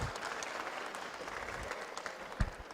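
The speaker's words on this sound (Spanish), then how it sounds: "Quiero pedirles de nuevo un gran aplauso" An audience at a science panel discussion on water at a university event claps for the invited guests, a steady wash of applause with a few sharper claps standing out, no voices over it.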